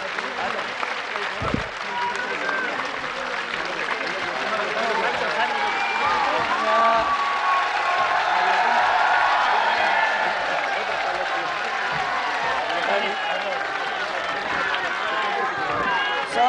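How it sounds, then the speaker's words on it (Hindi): A crowd at a political rally for Vasundhara Raje in Churu, Rajasthan claps in a sustained, dense roar of applause that swells in the middle and holds steady throughout, with no break. "इस छोर से उस छोर तक ताली बजनी चाहिए।"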